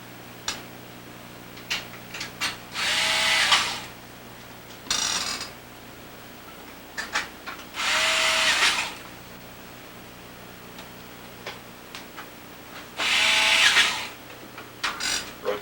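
A screwdriver drives three screws into a Sega Genesis console case, giving three separate whirring bursts of about a second each, spaced several seconds apart, with quiet light handling clicks between them.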